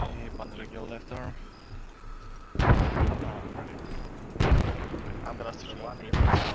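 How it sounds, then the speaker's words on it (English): Heavy mortar rounds strike in a military shooter game, with deep booming blasts at about 2.6, 4.4 and 6.1 seconds rolling over continuous battlefield noise while players talk over radio. "Taking mortar fire."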